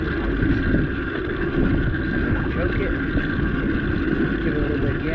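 A choked 2-stroke 49cc engine running on a ROADGIVE racing carburetor drones steadily and loudly close by, with a broad buzzing tone and wind rush that hold constant throughout.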